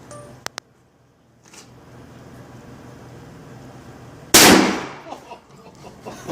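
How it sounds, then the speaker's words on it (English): A single loud, sharp report from a .50 BMG Steyr HS-50 bolt-action rifle at a gun club, cracking out mid-clip with a decaying echo after two small ticks and quiet outdoor ambience; people talk faintly around it. "Which one did you shoot at, Tyler?"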